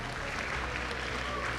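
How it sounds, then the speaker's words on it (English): A crowd in an esports arena at the MLBB M6 World Championship applauds a team's elimination bow. Steady applause and crowd noise form an unbroken wash. "let us all give a round of applause as KeepBest Gaming give us their final bow"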